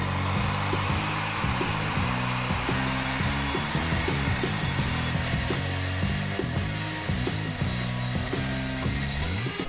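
Metal flat bar cut with a power tool in a workshop while building a workshop desk, a loud continuous whine with rapid rhythmic grinding pulses and rattling throughout, close to the microphone with no talking.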